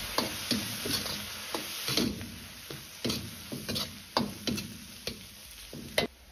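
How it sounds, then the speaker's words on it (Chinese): Soybean paste with soy sauce stir-fried over medium-low heat in a wok, a spatula scraping and tapping in an irregular rhythm of about a dozen strokes under a soft, steady sizzle, close and alone. "继续保持中小火翻炒"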